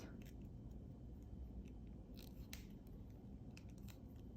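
Wire cutters snipping jewelry wire while making a leaf link, several small sharp clicks and snips close up over a faint background hiss.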